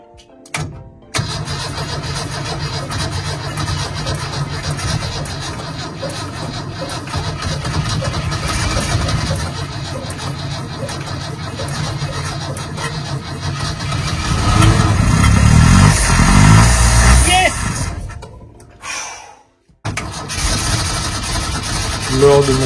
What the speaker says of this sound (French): Et là, je réalise une première tentative de démarrage.